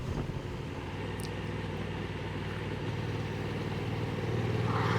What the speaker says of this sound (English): you can hear that a lot of the wind noise has been taken out. You're still getting to hear some of the engine noise.